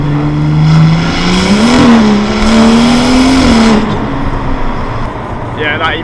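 A BMW M140i accelerating hard with the window lowered, its exhaust giving a loud, steady rising drone with a pitch swell, then easing off into road noise and a faint whistle.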